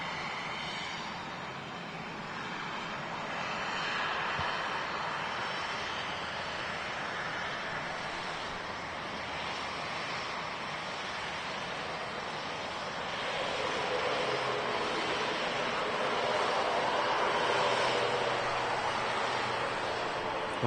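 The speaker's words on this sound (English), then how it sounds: "As the Singapore A350 lines up. 2-3 left to depart." A Singapore Airlines A350 lining up on the runway at Manchester Airport for departure, a distant, steady broadband jet-engine roar that swells slightly louder in the latter half, with wind-like noise throughout.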